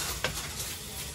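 Ground meat simmering in tomato sauce in a pan while being stirred, giving a loud continuous sizzle with a brief scrape of the utensil.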